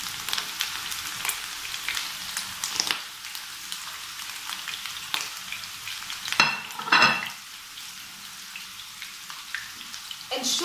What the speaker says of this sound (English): So we're gonna shallow fry this, and I'm just going to put them inside the oil like that.